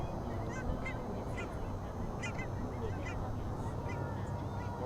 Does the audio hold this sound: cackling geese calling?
yes